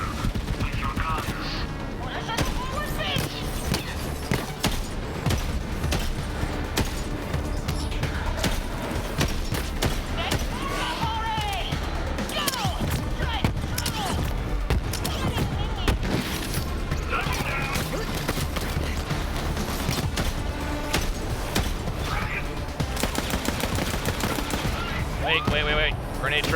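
Dense, continuous gunfire and explosions from the Borderlands 3 shooter video game, rapid bursts and crashes layered over music and a talking voice throughout.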